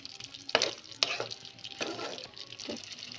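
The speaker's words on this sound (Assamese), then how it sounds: "অকণমান লাৰি দিব" A spoon stirs chicken curry in a pan, producing several distinct scraping strokes over a soft simmering sizzle, fairly close and moderately quiet.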